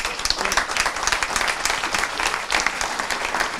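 Audience applause closing a roundtable at a Réseau Canopé ten-year anniversary event, a full, continuous round of many hands clapping, lively and even in level from start to finish.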